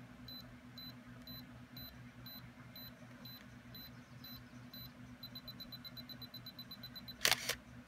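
A Canon EOS Kiss 3 film SLR self-timer counts down with evenly spaced faint electronic beeps that speed up near the end, followed by a sharp shutter click.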